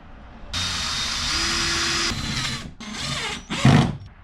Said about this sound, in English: I'll screw both of these in at this location.